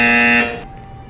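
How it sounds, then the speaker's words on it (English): Loud, steady electronic buzzer tone, as from a game show, sounding continuously for about 0.4 seconds, then cutting off into a fading tail and room noise. "Fuck that buzzer."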